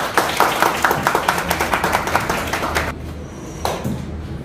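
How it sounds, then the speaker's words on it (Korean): Audience clapping at a gallery art exhibition opening ceremony, a steady run of close, rhythmic handclaps that fades out, followed by a brief pause and a short final clap burst. "박수 부탁드립니다"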